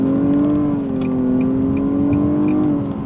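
A 2023 Nissan Maxima's engine hums steadily as the car accelerates, heard from inside the cabin, revs climbing gently with smooth, stepped simulated CVT shifts, moderately loud.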